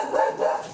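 A dog gives two quick, sharp barks close to the listener, one right after the other.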